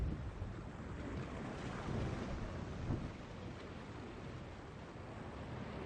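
Stormy sea ambience from the video game The Longest Journey: continuous roaring wind, rain and surging waves with a couple of low thunder rumbles, dense and unbroken throughout, with no talking.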